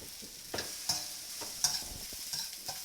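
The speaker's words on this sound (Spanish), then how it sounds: "no podemos dejar de estar meneando el arroz para que no se nos vaya a pegar" Rice stir-fried in a hot pan with egg and soy sauce, with a soft background sizzle broken by several spatula scrapes and taps at irregular intervals.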